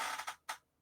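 A short, quiet burst of breathy noise, a brief pause, then one sharp puff, like a muffled sneeze nearby.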